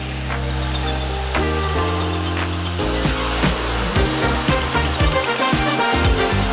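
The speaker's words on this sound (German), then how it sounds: "Die TK 1500 kann man so einspannen und damit auch Kleinteile anfasen." TKA 1500 deburrer clamped in place to bevel small parts, a loud, steady motor whine with shifting pitch and rough grinding contact as workpieces are chamfered, close and continuous.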